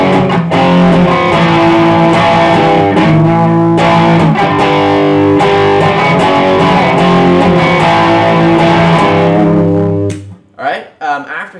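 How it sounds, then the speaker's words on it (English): Distorted electric guitar power chords, played as a loud, chunky sustained riff for about ten seconds before cutting off into brief ringing. "and you can go into power chords,"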